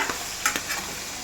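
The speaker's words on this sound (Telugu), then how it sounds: "చూడండి, ఇలా ఫ్రై చేసుకోవాలి." Fish shallow frying in a pan gives a soft continuous sizzle with a few faint scrapes and taps of stirring, heard up close and without talk.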